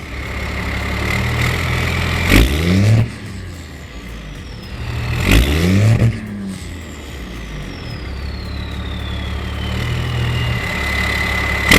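A 12V Cummins diesel truck engine with 376,000 miles, a 5-inch exhaust pipe and a number 0 fuel plate, idling loudly and then revving hard in two sharp bursts before settling back to a rough idle.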